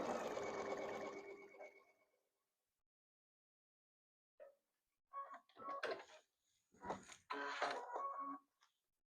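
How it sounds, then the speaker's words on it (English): A sewing machine stitches a foundation paper-pieced quilt unit: a steady whir for about two seconds, then after a pause a series of short mechanical bursts and clunks, with no talking. "So I just sewed that one piece on"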